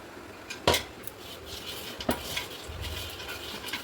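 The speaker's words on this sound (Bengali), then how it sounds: "ঘিটা নিয়ে আমি হাঁড়িতে ভালো করে মাখিয়ে নেব।" Ghee being smeared around the inside of a heated cooking pot for chicken biryani, heard as a few sharp metallic scrapes and clinks of a utensil against the pot, with quieter rubbing between them.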